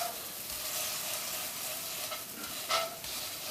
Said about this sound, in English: I'm cooking this paste just slightly loosening it all, because that's what we want to do before we add the coconut milk